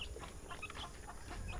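Chicks and chickens scramble for food in a farmyard, with faint, scattered clucks and peeps over a low rustling background. No one talks.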